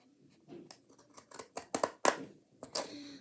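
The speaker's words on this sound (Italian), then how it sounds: "adesso quindi andiamo a ritagliare il foglio con queste forbici" Scissors cut through a sheet of paper in a series of crisp, close snips, about eight cuts with uneven spacing and growing louder toward the end, with no talk over them.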